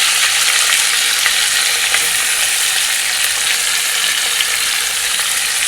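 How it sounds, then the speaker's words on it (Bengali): Sardines fry in hot white oil, a loud, continuous sizzle and crackle that holds steady from start to finish with no talking. "ছাটিন মাছগুলো ভাজা হচ্ছে"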